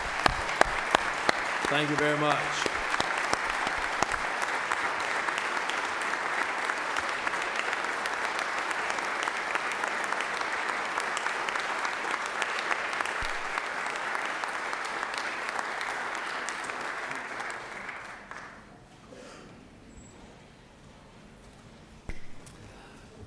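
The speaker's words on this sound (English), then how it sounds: "Let's give these two senators another round of applause." Senate chamber in Georgia breaks into sustained applause for two senators, a dense steady clatter of many hands lasting most of the time, with a brief spoken thanks early on before the clapping fades out near the end.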